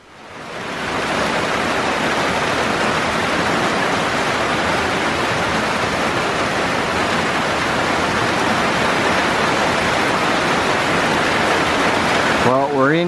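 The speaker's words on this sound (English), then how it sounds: "And then the water was a stream right there in front. You can probably hear it." A stream flows right in front of a trail shelter in Maine on the Appalachian Trail near Bald Mountain Brook, a steady, loud broadband rush of water that holds even throughout and ends in a brief clatter.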